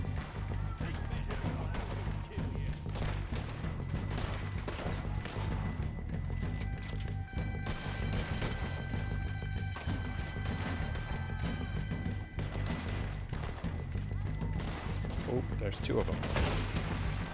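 Gunfire in the Western video game Red Dead Redemption 2, rapid repeated shots and impacts over a busy game soundtrack, with a player speaking briefly.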